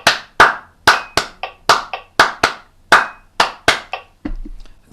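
Hand claps beat out a rumba clave and cascara pattern in a music warm-up session, sharp, close and loud with uneven spacing, about a dozen claps followed by a softer rustle at the end.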